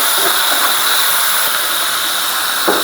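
Ground spice paste of cumin and ginger with green chillies sizzles steadily in a pan, a loud continuous frying hiss throughout with no voices.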